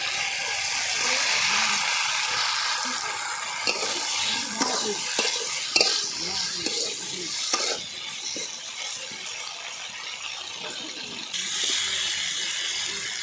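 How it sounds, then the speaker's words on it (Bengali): Fried flat broad beans being stirred into sautéed spiced masala in a pan for a puti fish curry, giving a steady broadband sizzle with repeated scraping stir strokes and clatters throughout. "মশলাটা কষানো হয়ে গেছে, এবারে ভাজা সিমগুলো দিয়ে দিচ্ছি"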